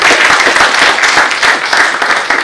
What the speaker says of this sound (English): So a little applause for all of you guys, because you guys will contribute.